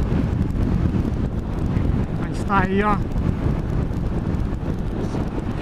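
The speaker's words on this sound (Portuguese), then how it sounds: "Ventando muito forte aqui." Strong wind buffets the microphone nonstop at a roadside stop on the BR-101 in Rio Grande do Norte after a motorcycle ride, loud and steady throughout, with a brief spoken remark in the middle.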